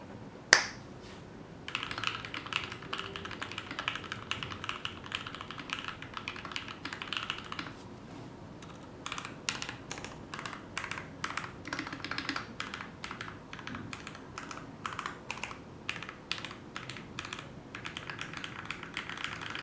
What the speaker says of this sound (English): let's go ahead and hear the differences in the key presses